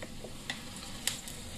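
Ground masala paste for a hotel-style vegetable kurma frying in a pan, giving a soft, steady sizzle with a few faint clicks and stirring scrapes, quiet and close.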